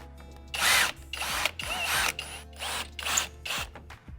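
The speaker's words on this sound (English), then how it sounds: "Now I'm going to install the self-tapping screws to secure the rest of the front lip." Power drill driving self-tapping screws into the front lip of a 2022+ Subaru WRX: several close, loud whirring bursts, each rising then cutting off, separated by short pauses.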